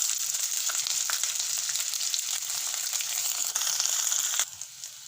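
Onion petals from medium onions fry in oil in a kadhai, a loud, steady sizzle with crackling and stirring scrapes that drops off sharply near the end.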